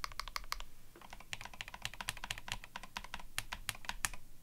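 Steady, brisk typing on an NK87 Entry Edition TKL mechanical keyboard, a close, crisp stream of clacky keystrokes with brief pauses and irregular rhythm, heard alone without voices.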